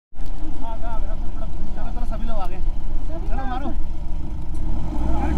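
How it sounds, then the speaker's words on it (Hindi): Engine of a stuck vehicle being pushed out on a village road in the Musko valley area, a steady loud rumble with rising whine, voices shouting over it throughout. "इधर एक गाड़ी शायद फंसी हुई है, धक्का वक्का मार रहे हैं शायद"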